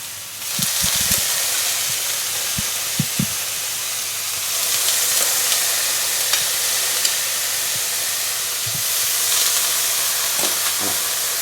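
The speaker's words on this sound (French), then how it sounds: "On va maintenant faire cuire les petites tranches d'aubergine dans une poêle bien chaude." Thin eggplant slices sizzle and fry in a very hot pan, giving a steady close hiss with a few soft clicks and knocks as they move, and no one speaking.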